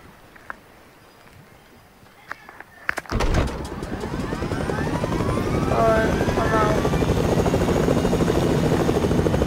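A helicopter in Fortnite approaches after a quiet start with faint taps, its rotor building from about three seconds into a loud, steady thrum that holds to the end.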